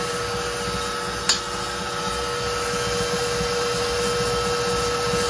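An electric hand mixer beats cornbread batter in a mixing bowl, a steady close motor whir running throughout with one brief clack near the start.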